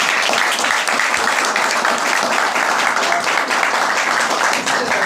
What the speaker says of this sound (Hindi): तो मैं आपकी जोरदार तालियों के बीच पहले भीमराज जी को इन्वाइट करना चाहता हूँ।